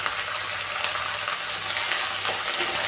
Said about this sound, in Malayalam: വെണ്ടയ്ക്ക, പടവലങ്ങ, ഉള്ളി, പച്ചമുളക്, കറിവേപ്പില ഇതെല്ലാം ഇട്ട് കൊടുത്തിട്ടുണ്ട്.